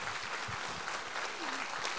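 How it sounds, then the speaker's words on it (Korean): A church congregation applauds after a sermon reading, a quiet, steady patter of many hands heard from a distance, with low murmurs underneath. "우리 하나님께 감사와 영광의 박수 올려드리겠습니다"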